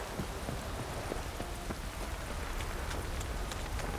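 Steady rain in The Witcher 3 video game patters softly throughout, a continuous hiss with scattered faint droplet taps and no voices.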